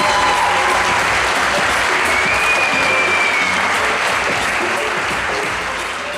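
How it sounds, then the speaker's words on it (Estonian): Audience applauds an award winner, a student-category winner, at an Estonian televised awards ceremony; dense, steady clapping fills the room for about six seconds, fading slightly at the end, with no talking. "Aplaus!"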